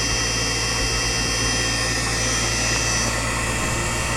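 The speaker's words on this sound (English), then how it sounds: "48 volt 800 watts BLDC motor kit, we can achieve 50 kilometers maximum. So this is the maximum no load speed." A 48 V 800 W brushless DC e-bike motor spins at its maximum no-load speed, giving a steady, continuous high whine with a constant mechanical hum, running unchanged throughout without speech.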